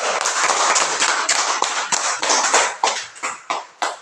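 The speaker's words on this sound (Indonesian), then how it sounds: "tepuk tangan buat kelompok 1" A school class applauding a student group, close, loud clapping from a room of children that thins into a few separate, uneven claps toward the end.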